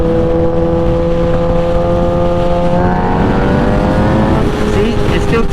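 A 2008 Suzuki GSX-R 1000 motorcycle engine pulls in 5th gear with a loud, steady drone whose pitch climbs gradually as it builds speed, the rising harmonics dominating over wind rush.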